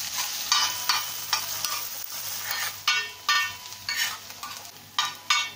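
Onions with asafoetida sautéing in a pan for pav bhaji, soft continuous sizzle punctuated by repeated scraping stir strokes from a spatula, fairly close and moderately quiet, no voices.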